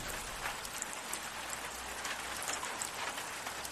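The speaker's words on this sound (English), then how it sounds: "the sound of the rain is just hypnotizing me" Steady rain falls as a dense, even hiss with scattered drops pattering close by, continuous from start to end and with no voices.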